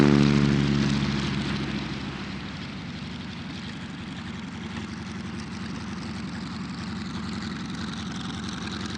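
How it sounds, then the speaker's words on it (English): A T6 Harvard training aircraft, a 1953 Canadian licence-built example at an airshow, its radial engine droning steadily and loudly with a throbbing propeller beat, fading slightly at first then holding constant. "is the T6 Harvard, this one being flown for us by its owner"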